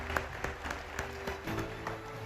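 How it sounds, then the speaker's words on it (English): Faint applause from an audience at a business awards ceremony, with a few distinct claps over a steady background murmur, brief and distant. "a huge round of applause for Mr."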